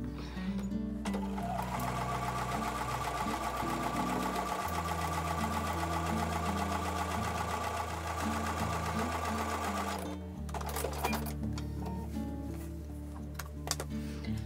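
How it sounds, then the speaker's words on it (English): A sewing machine runs a quarter-inch seam on a star quilt block, whirring close and continuously for almost the whole stretch, its motor pitch dropping and rising as the speed changes. "I'm going to take that over to the sewing machine and sew a quarter inch seam allowance"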